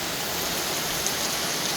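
Steady rain falls in a continuous hiss, dense and even, with no voices.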